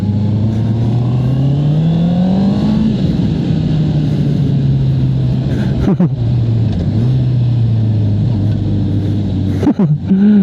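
A Honda CB650R E-Clutch motorcycle revs up while riding, its four-cylinder engine note rising loudly, dropping at a shift and then holding a steady drone with wind noise close by.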